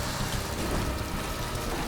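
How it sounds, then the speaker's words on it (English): Heavy rain pours down in Alberta during a highway heavy-rescue job, making a steady, dense, loud wash of noise that fills the whole stretch without a break and without voices. "The rain would pour, and then it would pour heavier and heavier and heavier."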